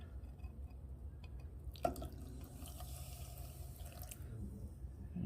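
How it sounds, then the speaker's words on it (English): Water is poured a little at a time into a meat and vegetable gravy while it cooks, giving a faint, steady trickle with one brief drip or splash partway through and no talk. "now we're going to add our water a little at a time"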